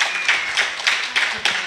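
Studio audience applause in response to a poll on Southeastern Louisiana's biggest football rivalry, McNeese State or Nicholls State: a brief, moderately loud burst of mixed clapping with uneven peaks, no talk over it.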